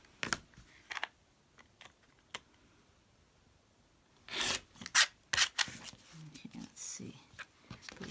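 Scissors cutting the sides off quilting fabric for half square triangles, a few brief snips and rubbing sounds followed by a louder cluster of crisp snipping and rasping, with no talking.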